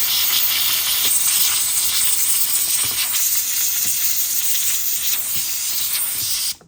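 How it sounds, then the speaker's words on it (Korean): A Kärcher steam cleaner blasts steam in a loud, continuous hiss at close range, holding steady for several seconds before cutting off abruptly at the end. "스팀이 막 밀어내고 분사량도 엄청 많은 걸 볼 수가 있었는데"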